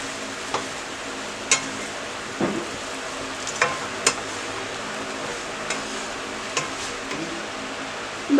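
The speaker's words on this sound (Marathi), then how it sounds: "ब्रेड स्लाइसेस थोडे रोस्ट करून घेऊया।" Large pieces of bread slices roast in oil in a pan with a steady sizzle, broken by occasional taps and scrapes of a spatula against the pan.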